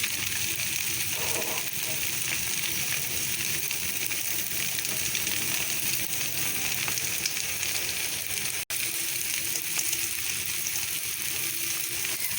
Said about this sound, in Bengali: চাট মশলা তারপর ধনিয়া পাতা দিয়ে একসাথে মিক্স করা হচ্ছে।